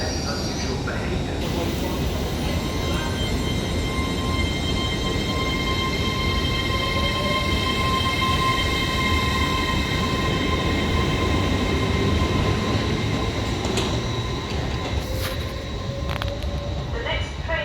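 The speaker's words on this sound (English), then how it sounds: "The next train to arrive at platform 1 will be the 1958 Northern service to Sheffield." A Northern train at Wakefield Westgate railway station rumbles steadily and close by, with a constant drone and high wheel squeal tones running throughout, loud and unbroken.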